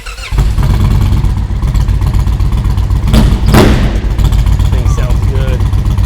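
A custom Indian Chieftain PowerPlus motorcycle idles loud and deep at close range, then throttle blips briefly near the middle before settling back to a rumbling idle.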